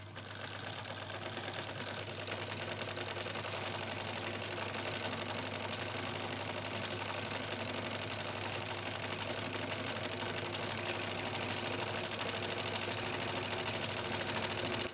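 A vintage Necchi Supernova Automatica sewing machine stitches a pattern, a steady, fast mechanical whirr and rapid needle clatter running continuously without a break, close and even.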